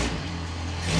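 A loud, steady boat motor drones during a ride on the water in Bangkok, a continuous low engine roar filling the whole moment with no voices.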